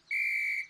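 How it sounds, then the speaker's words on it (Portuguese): A single short, bright whistle blast from the Kid-E-Cats cartoon, clear and steady for under a second, then silence. "Talvez a gente tenha que apitar."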